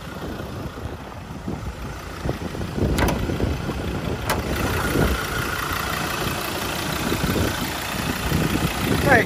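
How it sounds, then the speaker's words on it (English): A 2016 Ford Ranger Wildtrak with its 3.2L engine idling in the open engine bay, a steady low mechanical rumble with faint ticks and a couple of sharp clicks, heard up close. "Just gonna quickly show you now the engine bay of the vehicle, just so you can see and hear."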